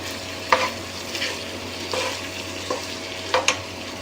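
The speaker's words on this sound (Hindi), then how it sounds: "इसको बहुत अच्छी तरीके से मिक्स करेंगे और इसको फिर दम आंच पे हम पकाएंगे" Spiced potato slices with turmeric and tomato being stirred in a pan, a steady low frying hiss broken by several sharp scraping strokes of the spoon spaced out through the moment.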